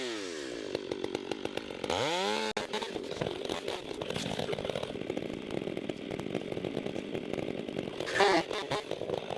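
A chainsaw cuts through a saw log 10 to 14 inches thick outdoors, its engine revving and snarling steadily up close, with a brief drop around two and a half seconds and a louder surge near the end.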